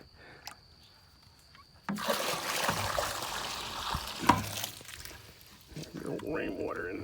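Rainwater poured from a container into a bowl outdoors, a steady splashing, trickling pour that starts abruptly and runs for several seconds close by, with someone talking over the end of it.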